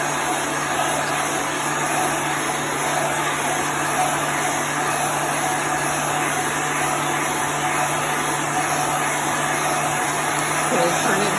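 A heat tool blows a steady, loud whoosh of hot air to dry chalk paste on a board, running continuously without a break.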